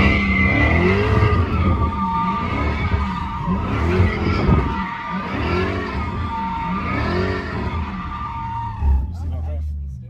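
A Dodge Hellcat slides with squealing tires, its engine revving in rising and falling surges over about ten seconds, close and loud, while people talk over the noise.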